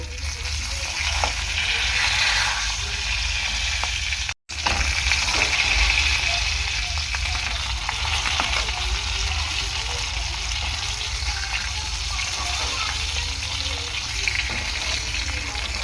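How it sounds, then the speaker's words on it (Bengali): Fish, head still on, fries in oil in a pan with loud continuous sizzling and crackling, close up, plus occasional stirring scrapes and a short gap early on; a voice is faintly audible underneath. "মাছটা ভালো করে আমি ভেজে নেব"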